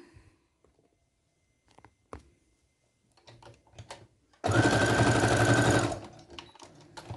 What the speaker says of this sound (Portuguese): Agora, eu vou puxar aqui, ó, vou passar uma costurinha.